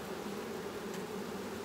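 Honeybees buzzing over a hive frame being drawn with wax cappings, a steady, close, continuous drone with a low hum that never lets up.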